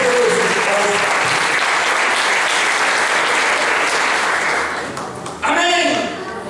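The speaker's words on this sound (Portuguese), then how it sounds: "Dá um aplauso ao Senhor, porque grande e poderoso é o Senhor." Church congregation applauding during a Portuguese-language worship service, a dense, steady wash of clapping that fills the space, easing off near the end before a voice briefly speaks over the tail.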